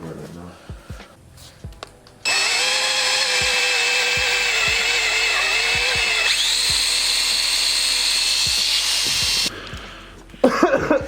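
A power tool hones the holes of a turbo part for a Civic install, a loud sustained high-pitched whine lasting about seven seconds that shifts pitch midway, with short bursts of talk and handling noise before and after.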